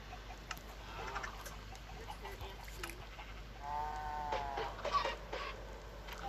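Chickens cluck in a farm video game, a few short clucks and a longer rising call over faint background hum.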